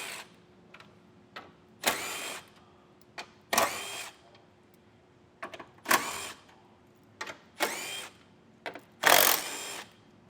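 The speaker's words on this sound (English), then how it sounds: "Now we'll take a 10mm socket and remove the 6 screws that are across the top of our fascia." A power tool with a 10mm socket drives out fascia screws on a 2024 Chevrolet Tahoe, giving five or six short, loud whirring bursts separated by quiet pauses and faint clicks.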